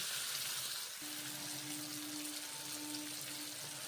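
A little water hits a pan of frying ridge gourd curry, a faint hiss and bubbling sizzle running steadily, with a thin tonal whine that appears a second in and persists, quiet and without speech.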